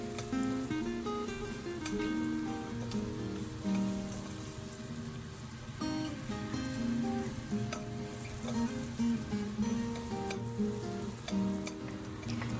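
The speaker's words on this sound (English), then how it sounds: "let's saute this together nicely until it becomes slightly golden color" Ingredients for Hong Kong style lobster noodles sauté in a pan until slightly golden, giving a steady, close sizzle and frying crackle with occasional stirring scrapes, and no voices over it.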